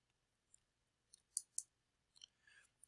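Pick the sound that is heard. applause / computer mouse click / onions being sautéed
computer mouse click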